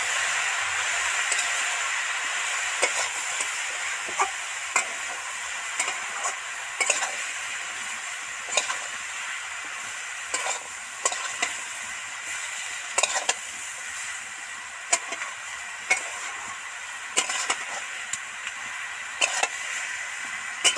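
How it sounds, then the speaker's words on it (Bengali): Bottle gourd frying with turmeric and chili powder in a pan for an egg dish is stirred and scraped with a spatula at regular intervals over a faint, steady sizzle lasting about twenty seconds. "এবার আরো 5 মিনিট ধরে ধরে নাড়তে থাকবে।"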